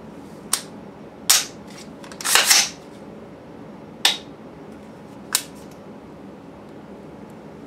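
Pistol dry fire practice: sharp, isolated mechanical clicks of the trigger and safety being worked, about six distinct snaps spaced irregularly over several seconds, close and crisp against a quiet background.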